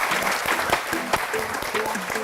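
Audience applause with steady clapping from a crowd at a GT World Series Nations Cup event in Tokyo, loud and continuous, with a voice faintly underneath.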